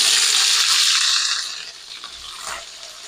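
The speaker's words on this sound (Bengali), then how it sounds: "তো এবার আমি ক্যাপসিকাম ব্যবহার করব তো ক্যাপসিকামটাকে প্রথমে একটু ভেজে নেব" Capsicum dropped into hot oil in a wok, a loud burst of hissing sizzle right at the start that fades within a second or two to a quieter crackle, with a brief stir near the end.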